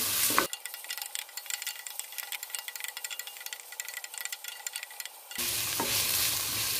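Lemongrass fries and is stirred in a pan while cooking beef rendang, giving a loud, steady sizzle with scraping stir strokes that runs for about five seconds, set between quieter kitchen sounds at the start and end.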